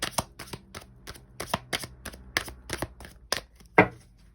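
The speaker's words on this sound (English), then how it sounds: "Okay, so let's shuffle the deck." Tarot card deck being shuffled by hand, a run of crisp riffling bursts in quick irregular rhythm, close and clear with no talk.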